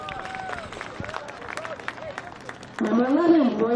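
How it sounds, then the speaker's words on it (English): Crowd applauding juniors at a youth football team introduction, a brief burst of clapping and cheering rising near the end under an announcer's voice. "I'd like to let you applaud the juniors together"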